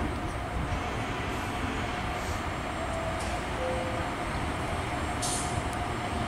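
A regional train arriving at a station rumbles steadily through, a broad low roar with faint squeals and hiss above, continuous and fairly close for the whole stretch.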